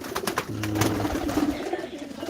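Breeding pigeons coo in soft, low, rolling calls close by, with a few brief flutters and rustles at the start.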